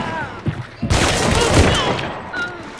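Gunfire from a LeMat carbine in the video game Hunt: Showdown: a few soft thumps, then a loud close blast that rolls into a sustained burst of shots and echoing reverb, with faint voice fragments around it.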